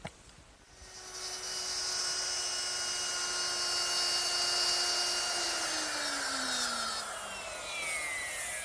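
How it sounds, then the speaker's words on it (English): Router fitted with a 3/8 inch straight bit cutting wood for a chest on chest build, a steady high whining motor with a continuous cutting roar that holds for several seconds, then the pitch drops slightly as the cut finishes, close and loud. "So I'm going to start with a 3/8 inch straight bit set up in my router"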